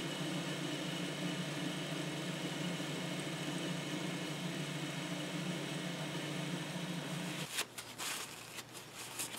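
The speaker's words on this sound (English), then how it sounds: "I'm being very conservative here and taking light cuts." A metal lathe takes light thread-cutting passes on a T-screw, giving a steady close motor hum and whine that stops near the end, followed by a few faint clicks and handling noises.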